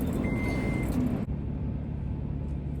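A car wash owner's truck sets off, its engine giving a steady low hum inside the cab with a brief click partway through and no talking.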